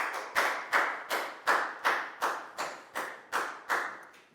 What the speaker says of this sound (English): A big round of applause for Prel,